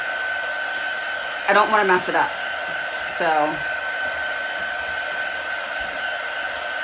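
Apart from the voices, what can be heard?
heat gun drying ink on a wine bottle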